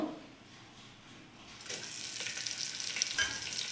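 Green chillies, curry leaves and cloves dropped into hot oil, a quiet start that bursts into a bright, continuous sizzle and crackle, close and alone.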